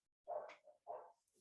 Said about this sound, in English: you guys probably can hear some dogs, a little chirping in the background.